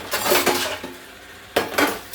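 Dishes, pots and utensils clatter during washing in a home kitchen, with a few close clinks and knocks over running water, leaving a quieter stretch before another burst of clattering.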